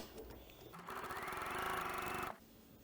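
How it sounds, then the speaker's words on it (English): A sewing machine stitches a hem, whirring in a steady, fast rhythm for about a second and a half before stopping, with quiet moments before and after. "So I'm just going to hold on to it while I stitch."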